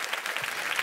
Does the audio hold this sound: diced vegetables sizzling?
no